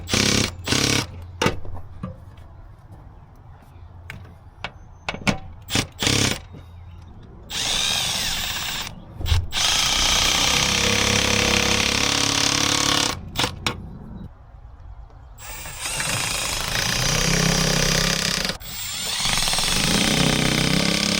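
A power tool drives stainless steel lag screws to mount a utility meter, first in short stop-start bursts, then in longer whirring runs with brief pauses between, loud and close with no talking.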